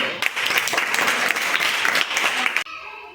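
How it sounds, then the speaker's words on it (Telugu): A classroom of children claps together for a classmate during a Telugu lesson, a dense burst of applause lasting about two and a half seconds before stopping abruptly. "వెరీ గుడ్ క్లాప్స్ మా"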